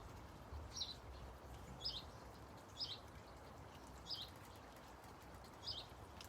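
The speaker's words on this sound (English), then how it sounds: "Those baby birds are chirping again." High, thin chirps from baby birds in a nest, five short bursts spaced about a second apart over a steady outdoor background, moderately distant.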